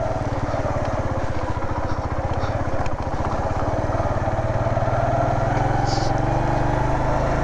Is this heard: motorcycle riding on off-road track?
yes